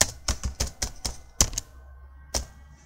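A computer keyboard being typed on in short bursts: about six quick, crisp key clicks close together, a pause, then one last tap, close-up and fairly quiet.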